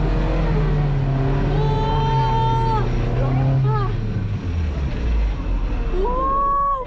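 An off-road car's engine roars steadily as it climbs a steep incline of more than 50 degrees, loud and sustained with shifting pitch, while people talk and exclaim over it inside the vehicle.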